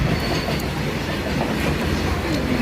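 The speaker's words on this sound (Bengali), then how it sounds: "এই যে ট্রেন যাচ্ছে" A local passenger train on the way to Digha rumbles steadily along the track, a continuous close, loud roar with faint clattering wheels and no pauses throughout.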